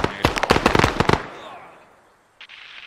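Mortar shells land in a video game battle as a rapid cluster of sharp, booming blasts that crackle and fade into a quiet tail, followed by one brief distant pop.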